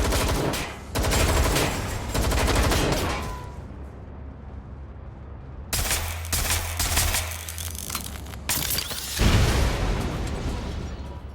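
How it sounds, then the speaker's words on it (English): Gunfire in the video game Watch Dogs: Legion: loud rapid bursts of automatic shots fired in clustered volleys, broken by quieter gaps and sharp resumptions. "Who's shooting down this end?"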